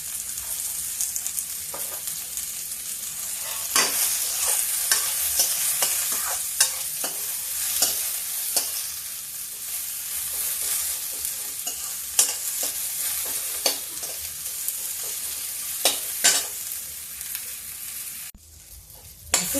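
Onions sizzling in a hot pan with a pinch of asafoetida, a steady loud frying hiss throughout, with repeated scrapes and clacks of a stirring spoon against the pan, close up and without speech.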